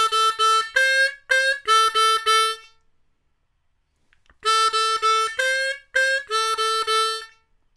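Diatonic harmonica in D plays short, reedy repeated notes in a bluesy phrase, including a triplet of 2 draw notes, loud and close; the phrase repeats after a brief pause.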